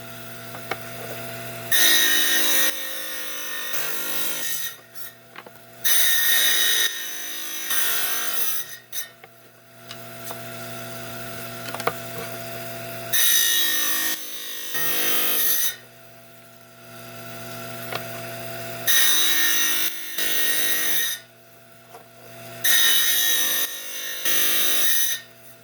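A saw trims a piece of wonderstone into a marquise shape for a cabochon, cutting in bursts of several seconds each with short pauses between passes, a steady whining grind of stone against blade.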